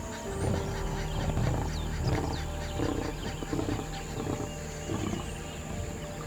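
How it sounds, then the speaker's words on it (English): An adult male lion roars at dusk on the Serengeti, a loud, rumbling call that carries over steady wild outdoor ambience, with several deep pulses spread across the span. "the thunderous roar of an adult male lion echoes through the air"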